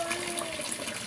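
Water pours steadily out of a filter in a water container for raised animals, a continuous broadband gush and splash at close range with no other sounds.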